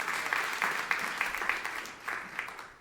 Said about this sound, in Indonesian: Yang setuju tepuk tangan yang meriah untuk kamu lihat.